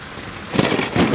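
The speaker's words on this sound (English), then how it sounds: "Oh, this storm is scary." Steady rain with low rumbles of thunder swelling twice during a thunderstorm, loud and close with no voices.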